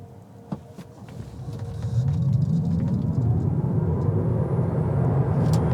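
A 2020 Tesla Model 3 Standard pulls away from a standing start: no engine note, just a low road and tire rumble that swells over the first couple of seconds, then holds steady and smooth.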